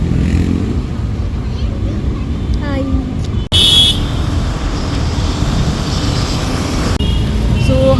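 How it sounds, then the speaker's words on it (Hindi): Bangalore street traffic rumbles loudly and steadily, with engines close by and brief car horn beeps sounding now and then. A person talks over the noise. "देखते हैं आज का ये ट्रैफिक कब ख़त्म होता है, कितना टाइम लेता है"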